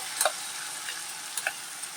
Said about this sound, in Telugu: ఉల్లిపాయ ముద్ద ఉంది కదా, అది కూడా వేస్తున్నాను. దోరగా వేయించుకోవాలండి.